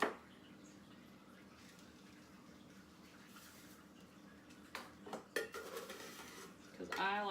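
Chopped onions and green chilies are tipped into a soup pot for a keto green chili soup, giving a few clattering scrapes and knocks of utensil against cookware after a quiet stretch of low kitchen hum.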